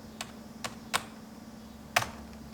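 A few separate keystrokes on a computer keyboard as a password is typed, quiet and spaced out over a steady low electrical hum.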